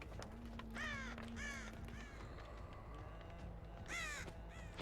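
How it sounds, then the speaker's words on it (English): Crows caw in the Dead by Daylight video game: three loud bursts of harsh, repeated calls stand out over a steady low ambient drone. "I did hear crows come back"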